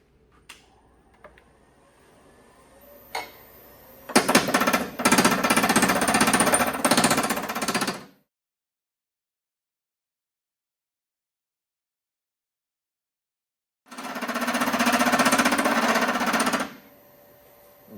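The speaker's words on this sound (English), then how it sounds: "So I'll probably carve the tenon a little bit also." A wooden urn's tenon is carved on a lathe: two loud, harsh bursts of cutting chatter, the first running about four seconds, then a long silence and a second shorter burst.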